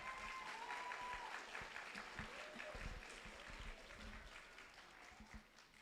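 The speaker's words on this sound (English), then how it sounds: "clap for yourselves." At a virtual graduation, the graduates applaud themselves, a steady crowd of clapping hands that holds at an even level, with a few voices mixed in beneath.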